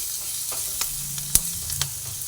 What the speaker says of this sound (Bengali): ভালোভাবে নাড়াচাড়া করে ভেজে নিলাম